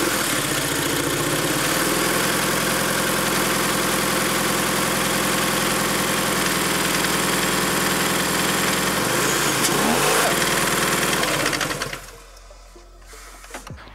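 A 2012 Toyota GT86 with about 170,000 km on it idles steadily and close by, its engine note holding even for about twelve seconds before cutting off, leaving near silence.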